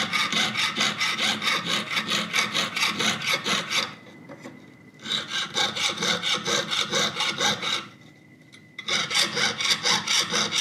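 A hand saw blade cuts with rapid, regular back-and-forth rasping strokes, loud and close, pausing twice briefly before resuming the same steady rhythm.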